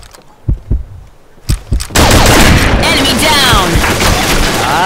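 Gunfire in the online shooter Combat Arms: a few isolated thumping shots, then a dense burst of rapid firing with ringing, chaotic battle noise that stays loud to the end.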